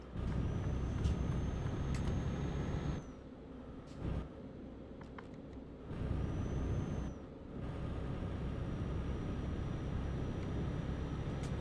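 A truck in a trucking simulation game drones with a steady low engine rumble broken by repeated braking, the engine dropping away and then swelling again, with faint high hisses and no talk.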